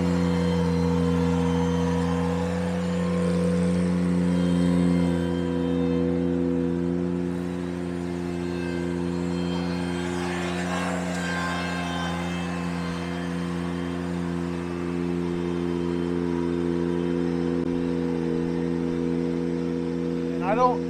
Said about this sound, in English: Marcus right now is just running over it, packing it down with those tires, getting it nice and solid.